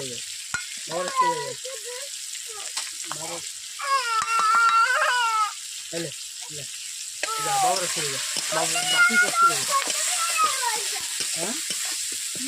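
Turmeric and chili powder spice paste for shukto frying and being stirred in a pan, with crackling sizzle and scraping strokes that come in irregular bursts, loud and close.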